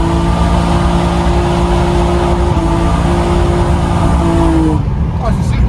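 BMW E36 drift car running on a circuit while warming its tyres and mechanicals, a loud steady engine drone with a sustained tone, under someone talking.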